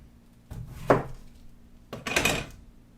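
A butcher knife cuts open an apple in two separate strokes, each a short, close crunching slice with a faint scrape, separated by a pause.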